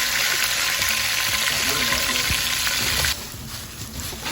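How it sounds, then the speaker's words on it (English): Jumbo butterfly shrimp in batter deep frying in a deep dish pan give a steady, bright hiss of bubbling oil that drops to a softer sizzle near the end. "So you want to fry for about 2 minutes"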